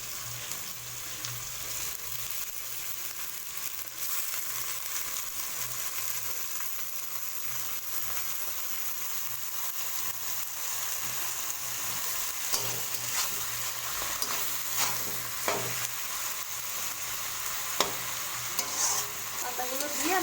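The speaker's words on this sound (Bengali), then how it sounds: "পাতাগুলো দিয়ে আমি ভালো করে পাতাটা আগে ভেজে নেবো" Taro leaves fry with turmeric in a pan, a steady close hiss of sizzling oil running throughout under repeated soft scraping and stirring, with a few brief clinks and no clear talking.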